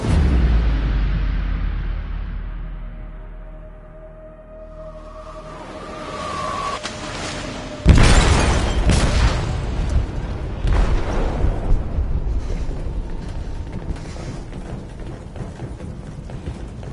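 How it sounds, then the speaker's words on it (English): An explosion erupts in a ship's hold in a video game, a sudden loud blast after a rising rumble, followed by sustained crashing, rumbling debris and creaking as the vessel begins to sink. "They detonated an explosive in the hold. The ship is sinking, sir."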